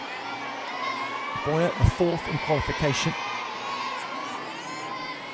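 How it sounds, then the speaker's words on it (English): A French crowd at a gymnastics World Cup in Paris cheers and shouts in a short swelling burst, with an arena commentator talking over it. "French crowd."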